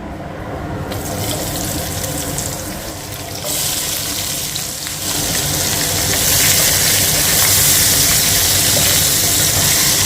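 Chopped onion for a chicken curry sizzling in a hot pan, a loud steady hiss that swells louder partway through as more onion goes in, with no talking.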